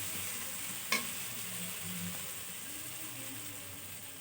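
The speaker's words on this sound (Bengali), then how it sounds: "এটা উনুনে করছি, মশলাটা এখন কষাচ্ছি।" Spices for a potato and soybean curry fry on a clay stove with a quiet, steady sizzling hiss and one sharp utensil click early on.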